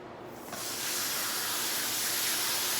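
Hot water from a hose sprays through a car-detailing buffing pad, a steady close hiss that starts abruptly and keeps running without talk.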